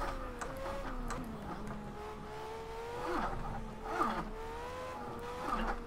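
A Formula A race car in the video game Project CARS, its engine whining through repeated rising and falling gear shifts, steady and moderately loud with faint tyre noise.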